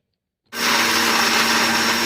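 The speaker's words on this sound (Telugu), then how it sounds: "ఎల్లిపాయ జీలకర్ర, ధనియాలు, ఎండిన మిరపకాయలు మిక్సీ పడతాను" An electric mixer grinder whirs to life after a short silence, grinding garlic, cumin, coriander seeds and dried chillies with a little salt, a loud, close, steady motor roar with gritty rattling.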